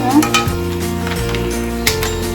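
Clams, called tahong, go into a hot pan and sizzle loudly in a steady frying crackle, with a few utensil knocks, under sustained background music.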